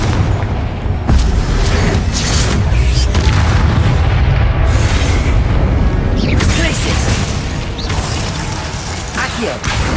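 Confringo fire spell explosions in Hogwarts Legacy, loud booming blasts over a heavy rumbling bed with mechanical clatter and bursts, continuous and dense throughout the fight.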